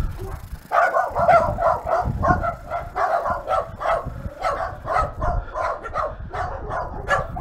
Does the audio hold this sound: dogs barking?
yes